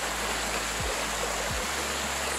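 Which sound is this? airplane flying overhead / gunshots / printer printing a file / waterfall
waterfall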